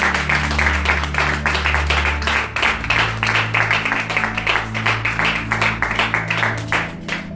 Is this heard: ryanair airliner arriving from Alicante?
no